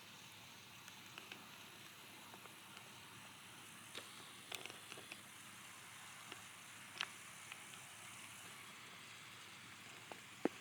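Rain falls in Cades Cove in the Great Smoky Mountains as a steady soft hiss, with scattered distinct drops tapping nearby and a faint low rumble in the background, with no voices.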